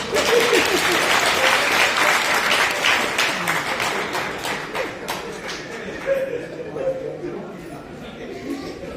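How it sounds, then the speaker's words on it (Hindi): A crowd applauds at a magic show held during a public gathering in Bihar, sustained loud clapping for several seconds that gradually thins, with voices talking over it. "थोड़ा ताली बजा दीजिए"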